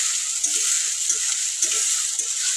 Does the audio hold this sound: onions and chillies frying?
yes